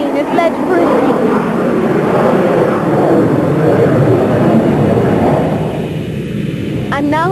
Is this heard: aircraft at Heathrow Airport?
yes